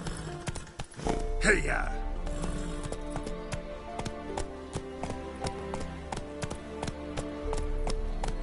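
Roach, a horse in The Witcher 3: Wild Hunt, gallops with a steady, rapid clip-clop of hooves close by, and a rider's shout rings out near the start.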